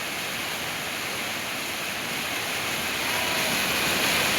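A river swollen into a flood after heavy monsoon rain roars steadily, a dense, continuous rush of water that grows slightly louder, with no voices.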